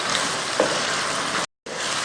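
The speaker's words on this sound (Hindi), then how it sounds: "इस टाइम पर हमने तमाम सब्जियां शामिल करके इसको मिक्स करना है।" Vegetables for chicken chow mein hiss and sizzle steadily as they fry in a hot pan. The sound is close and continuous, broken by a brief silent gap near the end.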